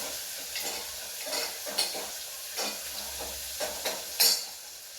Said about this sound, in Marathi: इथे टोमॅटो फ्राय करायला ठेवला मी